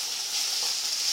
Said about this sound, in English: Okay, I'm just frying the chicken now.